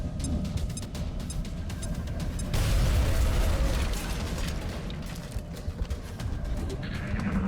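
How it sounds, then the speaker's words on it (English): A grenade blast in the video game XCOM Enemy Within: a sudden dense boom over a constant mechanical game soundscape, with the loud burst lasting a couple of seconds before settling back to clicking ambience. "Throwing grenade."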